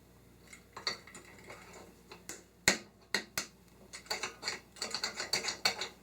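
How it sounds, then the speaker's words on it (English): AR15 forward assist being fitted into an upper receiver, a string of sharp metallic clicks and taps, some single and some in quick bursts, close and quiet with no voices. "we're going to put our forward assist in"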